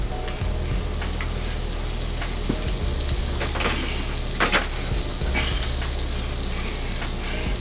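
About three tablespoons of butter melt and sizzle in a skillet still holding salmon drippings. A steady, loud, close-up hiss runs unbroken throughout, with a few faint scrapes and pops.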